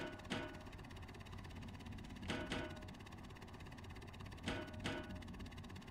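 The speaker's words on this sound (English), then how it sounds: "You can hear the lock going off." Warning tone from a flight video game's lock alert going off, with engines running high, sounding in repeated pairs of short bright beeps at about two-second intervals over a steady low engine hum.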